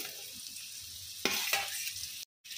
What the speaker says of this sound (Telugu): ఇలా ఉల్లిపాయలు అన్నీ వేగిపోయిన తర్వాత ఇందులో వేయించిన పన్నీర్ వేసుకోవాలండి.